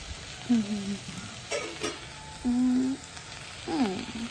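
Salted chicken frying in a pan for a chicken roll filling gives a low sizzle with several short, distinct bursts of stirring and scraping, and no talking.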